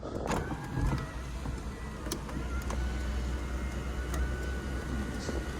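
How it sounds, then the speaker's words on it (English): The power sunroof of a 2001 Toyota 4Runner SR5 Sport Edition moves under a steady electric motor whine, with a low hum underneath and a few faint clicks, close and with no talking. "Sunroof still works too."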